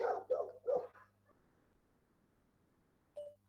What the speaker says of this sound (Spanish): Que voy a mandar un mensaje de que encierren al perro, porque yo lo estoy escuchando y creo que ustedes también.